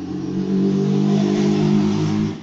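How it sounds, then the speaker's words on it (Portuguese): A motorcycle passes along the street in front of a home garage, its engine hum swelling to a steady drone and then fading away, with no talk over it. "Vai passar uma moto aqui na frente."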